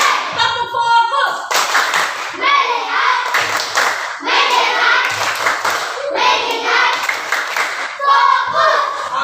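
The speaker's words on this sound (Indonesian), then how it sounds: "Tepuk fokus." A classroom group claps out the rhythmic 'tepuk fokus' focus-clap game, loud close clapping in repeated bursts with children chanting and shouting along between the claps.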